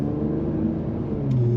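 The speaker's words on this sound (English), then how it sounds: "The exhaust system sounds fantastic." A 2021 Infiniti Q50 Red Sport 400 all-wheel-drive sedan with its sport exhaust hums in a steady, low engine drone while driving, with a slight swell toward the end.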